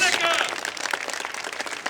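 An audience at a Vietnam Army monument unveiling applauds Dr. Monica Mills with a brief, dense burst of clapping up close that tapers slightly, with a voice over its start.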